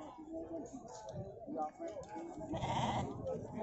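Very fat, jumbo-sized sheep at an Indonesian livestock market, bleating loudly and repeatedly from close by while someone talks over it and market bustle carries on behind.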